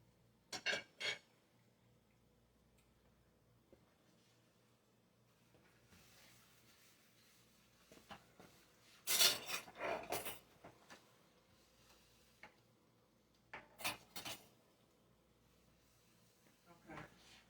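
Dishes and cutlery clatter into a kitchen sink in several short, sharp bursts of clinking and scraping, with quieter rustling between them and speech around.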